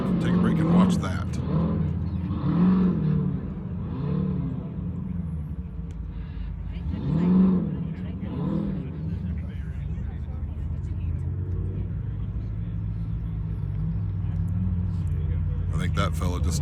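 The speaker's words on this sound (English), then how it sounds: "the sound of another car has announced itself and has entered the arena." At King of the Hammers, an off-road car rumbles into the arena with a low, steady engine drone that swells and fades over several seconds. People talk over it intermittently.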